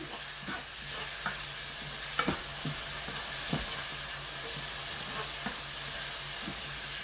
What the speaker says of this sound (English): So that will saute up for a little bit.